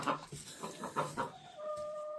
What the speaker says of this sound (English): We have chickens, we have ducks,